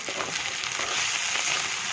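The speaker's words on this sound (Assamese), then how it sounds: "ডাইৰেক্ট ইফালে মই ভাজিবলৈ আৰম্ভ কৰি দিলোঁ, ভাজি আছোঁ" Pork frying in a pan for a Christmas dry-fry dish gives a steady, close, dense sizzle with crackling spits, continuous and without a break, and no voices over it.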